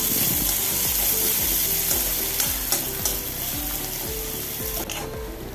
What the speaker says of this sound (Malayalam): ഇനി രണ്ട് സവോള അരിഞ്ഞത് എണ്ണയിലിട്ട് കൊടുക്കാം ഒന്ന് ഇളക്കി കൊടുക്കാം